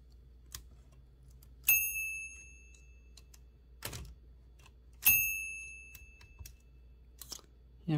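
Bell on a Torpedo 18B typewriter rings twice, each a bright ding with a ringing decay, among sparse mechanical clicks and clunks of the carriage in a quiet room.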